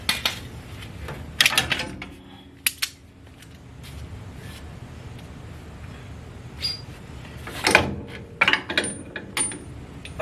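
Metallic clanks, scrapes and clicks from removing the spring and strut on a 1989 Dodge D100 pickup's suspension, sharp bursts near the start and again later between quieter handling noises, close by and without talk.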